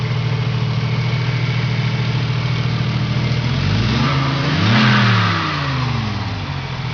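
Supercharged G60 engine in a VW Corrado idles steadily, then revs up and falls back once with a rising and dropping whine, close and loud throughout.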